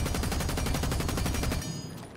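A rapid, loud, continuous burst of automatic gunfire with an extended magazine in the video game Rainbow Six Siege, even and close, cutting off abruptly near the end.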